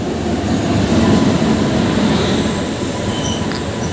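A train rolls through a railway station with a loud, continuous rumble of wheels on track, a faint squeal of wheels riding high above the steady noise the whole time, with no talking.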